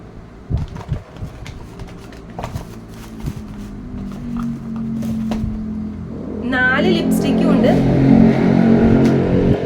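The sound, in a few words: vehicle passing by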